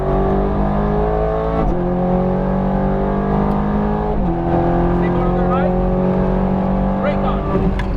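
A Ferrari F430 Scuderia at full throttle on a racetrack at Las Vegas Motor Speedway, its engine howling loud and close with rising pitch sweeps at each upshift, a voice talking over the engine.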